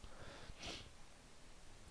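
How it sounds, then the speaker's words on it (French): One quick, close nasal sniff breaks a quiet room, then only soft background hiss remains. "désolé je renifle un peu"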